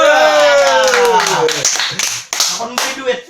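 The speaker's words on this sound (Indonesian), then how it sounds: "Tepuk tangan" An audience at a stand-up comedy show claps in a short burst of applause, with a voice speaking over the opening moments.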